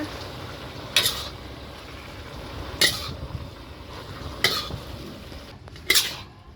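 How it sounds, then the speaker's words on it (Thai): A spoon scoops stir-fried heart cabbage with fish sauce and fried garlic out of a pan, giving four sharp metallic scrapes and clinks spaced about a second or two apart over a quiet kitchen background. "ตักเสิร์ฟได้เลยนะคะ"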